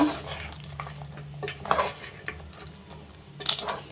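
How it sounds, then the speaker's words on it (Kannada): A spoon stirs mutton masala sambhar in a pot, scraping and clinking against the metal sides with a soft sizzle beneath, and a couple of louder knocks stand out. "ಇವಾಗ ಫುಲ್ ಮಿಕ್ಸ್ ಮಾಡ್ಕೊಳ್ಳೋಣ"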